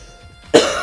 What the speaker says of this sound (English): Man, I am really coughing today.